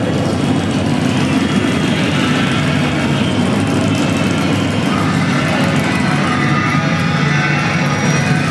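Custom motorcycle engine running at a custom bike show, a loud continuous rumbling drone held steady close by, dense and unbroken throughout.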